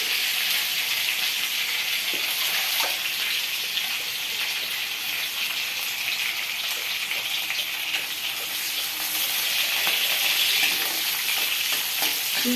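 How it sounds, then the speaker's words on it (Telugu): Onions and green chillies sizzle steadily in a hot pan, a dense, even crackle holding close and constant throughout with no voice over it. "ఉల్లిపాయలు ఇలా ఫ్రై అయ్యాక,"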